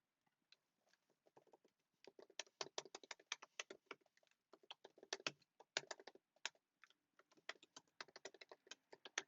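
Quick, irregular keystrokes from a computer keyboard being typed on nearby, a steady run of light clicks with short pauses between bursts and no voices.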